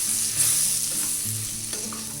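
Curry masala made from coriander seeds, chana dal, urad dal and dried red chilies is stirred into bell peppers (capsicum) in a pan, giving a steady close sizzle with soft scraping strokes and no voices.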